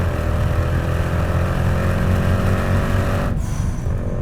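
Mercedes C63 AMG 507 Edition with its 6.2L V8 pulling hard in third gear around 4,000 RPM while losing traction, a loud, steady engine roar that cuts off abruptly near the end.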